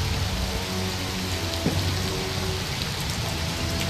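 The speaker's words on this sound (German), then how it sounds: "Der Regen ist nervig, nervtötend." Steady rainfall in the video game Mafia, a dense continuous hiss of drops on surfaces with a faint low hum beneath and one brief sharper tick.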